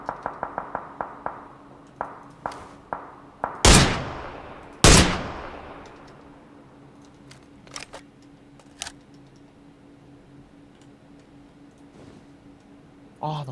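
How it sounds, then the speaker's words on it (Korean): Gunfire in a Korean online shooting game, aimed at an apartment rooftop: a quick run of sharp shots, then two loud close blasts, followed by scattered fainter distant shots, with players talking over it. "아파트 옥상에 쏘고 있어요, 두 명."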